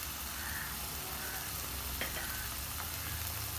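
Turmeric, red chilli powder, coriander powder, garam masala and salt sauté in hot oil for a dhaba-style Tamil egg curry: a steady close sizzle with faint scrapes of stirring and no pauses.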